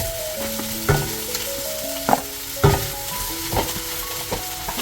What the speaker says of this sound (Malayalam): അപ്പം ഞാൻ അതിലേക്ക് ഇനി ചിക്കൻ ഇടുക കേട്ടോ.